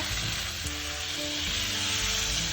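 Kimchi for a Korean kimchi stew with belly pork and tofu sizzles steadily in a pot while being stirred, a close, continuous frying hiss with faint scraping.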